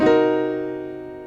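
A single sustained half-diminished chord struck once, ringing out and slowly fading, with a slightly tense, unresolved color.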